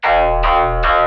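A distorted synth bass patch with automated filter cutoff plays three repeated notes in quick succession, loud and buzzy, each opening bright then darkening.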